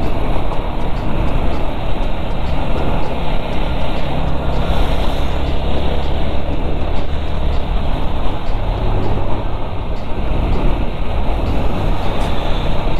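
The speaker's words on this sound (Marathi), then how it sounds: "केवढं ट्रॅफिक आहे कराडमध्ये." Heavy road traffic on a busy street in Karad makes a constant loud rumble of buses, cars and trucks. It roars close by without break, and no voices are heard.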